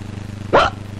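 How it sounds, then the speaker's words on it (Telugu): A single sharp hiccup, loud and close, cuts briefly over a low rhythmic background hum in a comedy scene set at a meal table. "ఎవరికి ఎక్కిళ్ళు?"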